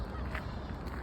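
Ducks on a park pond honk and quack in a brief, close burst of calls over a busy outdoor background.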